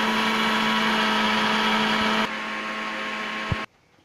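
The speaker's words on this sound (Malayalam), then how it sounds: "ഇതാ നമ്മൾ മിക്സിയിലിട്ട് പഞ്ചസാര പൊടിക്കാൻ പോവുകയാണ്" A kitchen mixer grinder powdering sugar runs with a steady, loud whine for about two seconds, drops to a lower hum as it slows, then cuts off into near silence.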